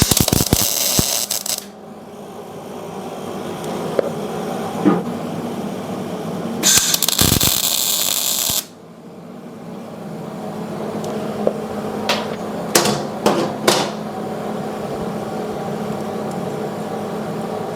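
Tack welding a door hinge pivot onto steel tube gives two loud, sustained buzzing bursts of the welder, then a quieter shop hum with a few sharp metallic clicks and taps nearby.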